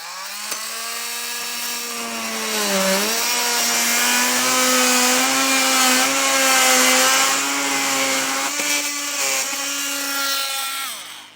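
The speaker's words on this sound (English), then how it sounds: "We'll take a multi-tool and cut that off" An oscillating multi-tool cuts away a ladder section on a 2024 Ford during a base plate installation, giving a loud, steady buzzing whine whose pitch wavers slightly as the blade works, running for about eleven seconds with no talking.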